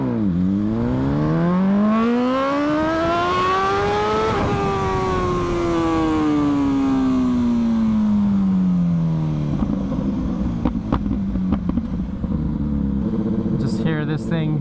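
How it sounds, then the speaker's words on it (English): A Ducati Superveloce 1000 motorcycle engine revs loud and close, its tone climbing to near maximum RPM, holding, then sinking back down to a rough idle. "Just hear this thing sing almost at max RPM."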